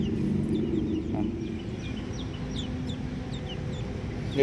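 Chickens cluck and squawk in short bursts over a steady low background hum, with scattered bird calls throughout.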